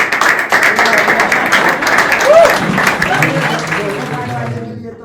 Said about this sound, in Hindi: यदि अच्छा लगा तो ताली बजाएं।